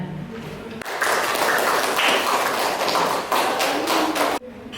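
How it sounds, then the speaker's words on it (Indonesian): A classroom group of presenters receives applause from an indoor audience. The clapping is loud and dense, swelling in abruptly, holding steady for several seconds and then stopping sharply. "Berikan tepuk tangan."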